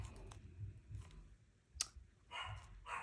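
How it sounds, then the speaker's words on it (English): A dog barks in the background of a home craft session, a few short, somewhat distant barks spread across the moment amid faint clicking and room noise, with no talk. "And there's a barking dog."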